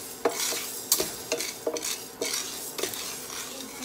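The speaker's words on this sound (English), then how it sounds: "Keep on stirring." A spoon stirs guinataang munggo, a mung bean and coconut stew, in a metal pot, giving irregular scraping clinks against the sides over a soft simmering sizzle.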